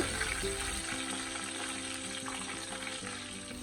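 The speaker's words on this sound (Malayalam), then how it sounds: "ഉലുവയും ജീരകവും ഒന്ന് പൊട്ടി വരുമ്പോൾ അതിലേക്ക് ലേശം കറിവേപ്പില ഇട്ട് കൊടുക്കുന്നുണ്ട് ഇളക്കി കൊടുക്കുന്നുണ്ട്" Fenugreek seeds, cumin and curry leaves sizzle loudly in hot oil in a pan, a dense, continuous crackling hiss with faint stirring scrapes underneath.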